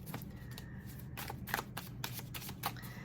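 Tarot cards are shuffled and handled up close in a card reading, with quick riffling bursts, flicks and soft slaps of cards in an irregular rhythm, fairly quiet over low room noise, with no speech.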